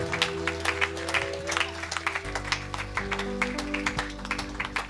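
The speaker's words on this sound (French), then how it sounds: "Applaudissons pour la gloire de Jésus." A church congregation claps during a sermon, a quick scattered patter of hands over a sustained low organ or keyboard chord that shifts partway through.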